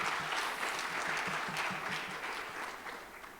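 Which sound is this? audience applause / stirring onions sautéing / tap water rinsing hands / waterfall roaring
audience applause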